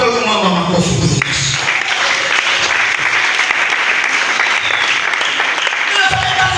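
Steady applause from a church congregation cheering for Jesus at a Swahili sermon, a dense wash of clapping hands that runs loud and continuous, starting just after a brief moment of speech and tapering near the end.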